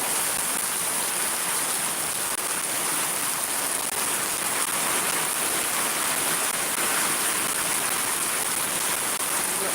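A downpour in Shariatpur roars as a constant, thick wash of falling water, loud and near throughout, with no pauses and nobody talking.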